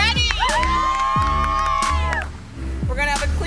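A crowd cheers and shouts loudly at a pie eating contest, with high children's yells and an announcer's voice over the roar, the sound dipping briefly before surging again.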